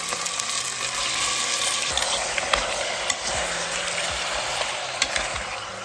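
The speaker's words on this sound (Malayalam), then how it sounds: "ഈ സമയത്ത് ഇതിലേക്ക് നമുക്ക് ക്ലീൻ ചെയ്ത് വെച്ചിരിക്കുന്ന ലാംബിൻ്റെ കഷ്ണങ്ങൾ ഇട്ട് കൊടുക്കാം. ചേർത്ത് എണ്ണ പൊരിച്ച്" Pieces of lamb sizzling in hot oil in a pan for a masala lamb curry, a steady loud crackling hiss with occasional small pops and stirring scrapes, no talking.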